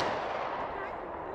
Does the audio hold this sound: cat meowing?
no